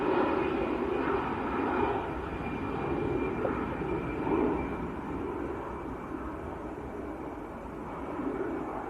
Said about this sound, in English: that is EasyJet to Dubrovnik, Airbus A320.